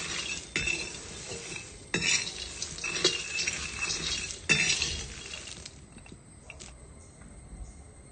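Peanuts are stirred while roasting in a pan, with dry rattling scrapes and sharp clinks in bursts that thin out toward the end.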